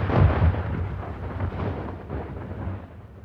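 A rank of soldiers fires a musket volley at Bunker Hill, a heavy rumbling boom with a dense roar that lingers for several seconds, loud and close, without speech.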